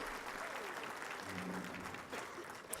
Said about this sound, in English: Give this council a round of applause